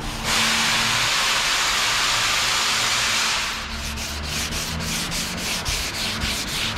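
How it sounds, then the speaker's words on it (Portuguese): A cloth is rubbed over a freshly sanded surface to clear away the dust, giving a loud, steady hissing scrub that shifts partway through into a series of quicker, regular strokes. "Passa no onde tu lixou pra tirar a poeira, passa na lixa também."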